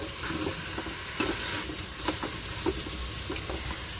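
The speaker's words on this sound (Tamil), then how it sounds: "தக்காளி சேர்த்து நல்லா வதக்கி விட்டுக்கலாம்." Tomatoes frying in oil in a pan for biryani gravy, a continuous sizzle broken by repeated soft scrapes of stirring at a steady pace.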